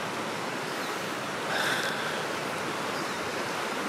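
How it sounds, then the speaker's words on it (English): A small side creek flows steadily nearby, a continuous close rush of water with a brief slightly louder swell midway, alone without talk. "There's that little creek, side creek."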